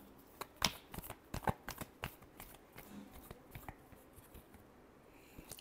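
Tarot cards being shuffled by hand, a quick run of crisp riffling flicks and soft slaps, close and clear with no voices.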